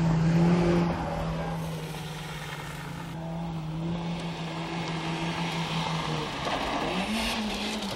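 A car drifts on a dirt track, its engine holding a steady, fairly loud drone. The engine pitch shifts and climbs near the end, and no one talks.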